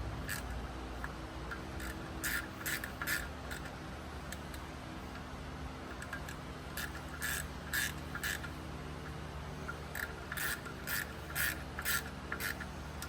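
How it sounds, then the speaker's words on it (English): 3/8 ratchet snugging a bolt during front rotor replacement on an 88-94 Toyota 4WD pickup, heard as quiet clusters of quick clicking pawl ticks in short bursts over a low steady background hum. "Take our torque wrench, or not our torque wrench, just our 3/8 ratchet here."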